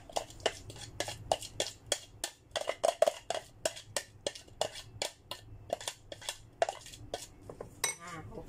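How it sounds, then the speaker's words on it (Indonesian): Blended corn added to a mixing bowl for corn fritters, heard as a steady run of sharp utensil clinks and taps against the bowl, close and fairly quiet, roughly evenly spaced over several seconds with no talking. "Lanjut kita masukkan jagung yang di blender lagi ya."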